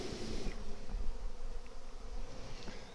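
Honey bees buzz loudly and continuously close by in a crowded deep hive during a transfer, a dense steady hum with individual bees droning past.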